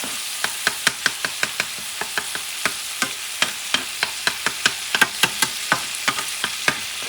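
A spoon stirs and scrapes through leftover turkey paella with grated tomato and smoked paprika in a pan. Rapid, regular clinks and scrapes ring out over a low, steady sizzle, close and clear with no talking.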